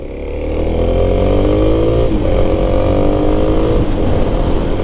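A Kawasaki KLX300SM motorcycle pulls away with its engine revving up loud and close, then holding a steady, rising drone as it rides off, with a brief dip and climb in pitch as it shifts.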